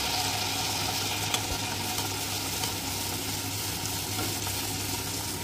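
Palm malpua batter frying in hot oil, a continuous dense sizzle and crackle with a few soft stirring clicks, steady and close throughout without any talk.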